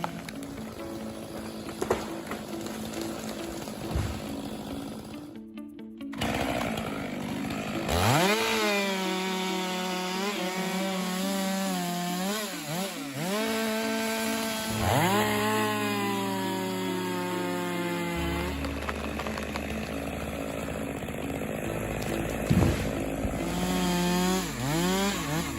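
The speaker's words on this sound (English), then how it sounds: "the chainsaw blade is flying like a storm in the middle of the forest" Chainsaw cutting a century-old tree during a big timber job in the forest of Strawberry Valley, California: a loud engine revving up and down in repeated surges, bogging into the wood and easing between cuts.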